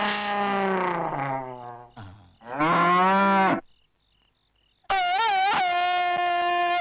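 A buffalo moos loudly and close, several long drawn-out bellows separated by brief pauses and a silent gap, with no talking over them.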